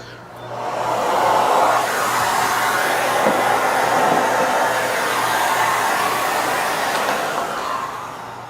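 A Miele Guard M1 Parquet XL vacuum cleaner runs steadily with a loud, continuous whooshing suction roar and a low motor hum, holding constant throughout and tailing off slightly at the end, with no voices.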